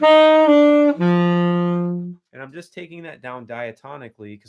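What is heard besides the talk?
None of the usual background noises is heard.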